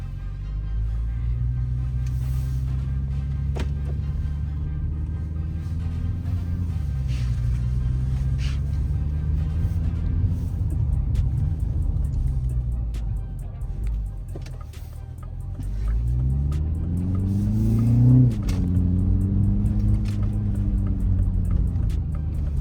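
A 2025 Mini Cooper S driving on winter roads, with a steady close engine and road rumble throughout and revs swelling and rising near the end; no one speaks.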